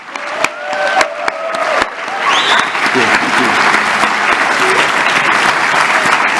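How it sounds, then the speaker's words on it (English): An audience at a Formula Student business plan presentation final breaks into loud, sustained applause. A few sharp claps come first, then the clapping swells into a dense, steady roar that carries on to the end. "If we could have one big last round of applause for these teams who've done so well."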